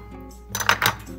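Egg, salt and milk beaten in a bowl make a short burst of clinking utensil strokes against the dish, about two quick rapid scrapes near and moderately loud, with no speech.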